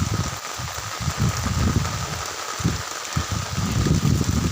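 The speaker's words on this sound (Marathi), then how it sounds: "पाठीमागं बघा त्या डोंगराकडं कसा पाऊस पडतोय जोरात" Heavy rain pours down steadily, a dense hiss of drops striking surfaces with low rumbling gusts underneath, fairly loud and continuous.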